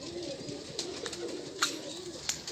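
A held high-flying pigeon coos softly in low, rolling phrases close by, with a few sharp clicks and handling noises scattered over a quiet background.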